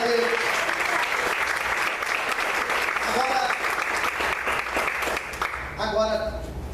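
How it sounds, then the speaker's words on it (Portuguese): A church congregation claps during a Portuguese sermon, dense sustained applause filling the room with voices and cheers mixed in throughout. "Você pode aplaudir o Senhor por isso."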